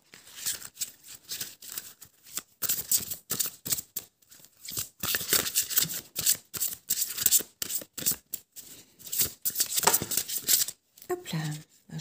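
Oracle cards from a protective-dragons deck are shuffled and drawn by hand, with repeated crisp riffling bursts and short pauses, close and clear, and a voice talking briefly near the end.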